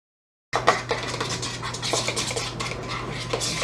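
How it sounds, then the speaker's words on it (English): A utensil stirs food colouring into cake pop mixture in a bowl, making close, repeated scraping and light clinks against the sides. The sound starts after a brief silence and has no talk. "Get it to the color that you want it to be. Stir it up."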